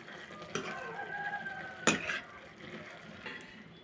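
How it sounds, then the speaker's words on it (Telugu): Turmeric and salt are stirred into a bottle gourd (anapakaya) curry, giving faint, close scraping and stirring with a few light utensil taps over a low simmering hiss. "దీనిలోకి పసుపు, సాల్ట్ అండి, ఉప్పు రుచికి సరిపడంత ఒకసారి కలుపుకుందామండి"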